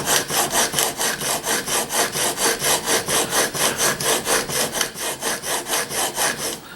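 A steel chisel is rubbed back and forth across a sharpening stone in a steady, fast rhythm of about four strokes per second, each stroke a close, loud, gritty rasp with no talking.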